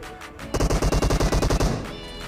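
A burst of rapid automatic gunfire from a first-person shooter game, a dozen or so evenly spaced loud shots in quick succession, followed by a fading echo, with no talking.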